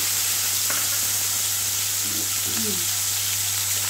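Chopped tomatoes hit hot oil for a vegetarian potato curry, giving a steady close hissing sizzle with a low constant hum beneath and a few faint clinks.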